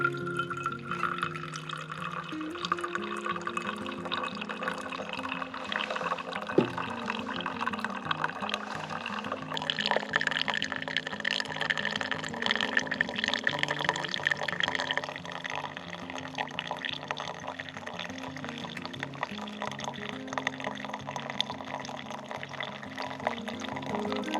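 Water poured slowly through a pour-over coffee filter brewing cinnamon-flavored coffee, a continuous trickling flow with faint drips, steady and close, with no talk.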